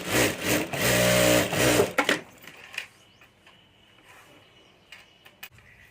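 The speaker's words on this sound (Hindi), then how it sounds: "तो यहाँ ऊपर भी एक सिलाई कर देता हूँ।" Sewing machine stitching a zipper onto a ladies' multi-pocket handbag, a loud close burst of rapid stitching for about two seconds, then stopping, followed by faint handling clicks and rustles.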